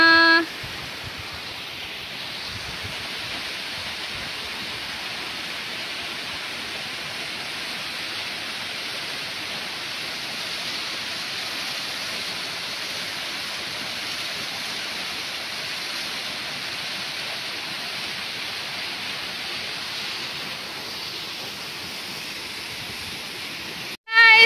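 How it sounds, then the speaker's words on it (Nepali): Steady, broad rushing roar of Tarevir waterfall near Gokarneshwor on a hiking trail, a continuous even wash of falling water holding constant throughout with no break or talk. "here it is, Tarebhir Jharna."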